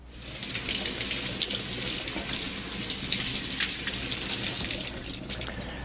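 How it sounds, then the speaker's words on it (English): Steady running tap water splashing over a raw pork loin in a kitchen sink, a continuous broadband hiss with spattering, close and alone without any talking. "And I will now rinse off the pork loin"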